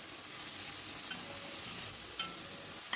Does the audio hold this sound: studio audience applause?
no